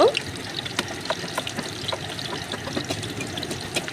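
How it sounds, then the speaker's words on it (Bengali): Chopped onions frying in soybean oil in a pan for chicken khichuri, a steady close sizzle with scattered crackles and light stirring clicks, no talk. "এবার দিয়ে দিব পেঁয়াজ কুচি। পেঁয়াজগুলো একটু নেড়েচেড়ে জাল করে নিব।"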